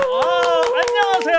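Quick, enthusiastic seal-style clapping at a village gathering, with sharp claps rising beneath a loud, sustained voice that dominates the moment.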